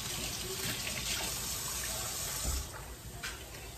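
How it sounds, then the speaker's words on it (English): Hands are washed under a running kitchen tap, a steady close rush of water that eases slightly near the end, with brief splashes and no talking. "Wash my hands."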